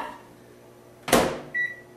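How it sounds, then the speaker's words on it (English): A kitchen microwave oven in use: a sudden loud thump as its door shuts, followed a moment later by a short, clear electronic beep, with no talking. "I'm going to put these in the microwave."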